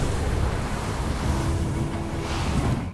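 Strong wind carrying sand in bad weather, a loud, steady rushing roar with heavy low buffeting, continuing for the whole stretch before cutting off abruptly at the end.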